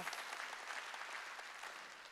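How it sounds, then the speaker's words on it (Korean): Church congregation applauding during a Wednesday worship service, a dense, steady patter of many hands clapping throughout, moderately distant and even. "박수쳐 동일하다는 거야."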